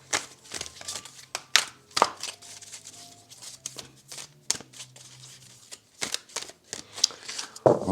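Cards are riffled and shuffled again and again in irregular bursts, with crisp slaps and flutters close to the listener.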